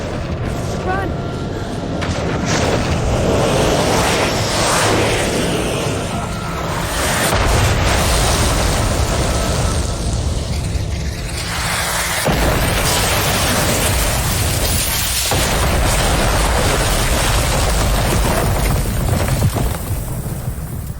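Bombing in a TV show produces loud, sustained rumbling blasts that rise and fall in heavy waves, with deep booms and debris-like rushing noise filling the scene.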